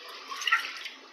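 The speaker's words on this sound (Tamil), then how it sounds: "எவ்வளோ தேவையோ அந்த அளவுக்கு தண்ணி ஊற்றிக்கோங்க" Water is poured into sambar while cooking, a brief close splashing pour that swells and fades over about a second.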